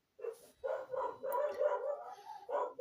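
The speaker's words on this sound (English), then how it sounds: "And there you go, you get to hear my dogs." Dogs bark in a rapid run of loud, close yaps and barks, several in quick succession, with a brief whine mixed in.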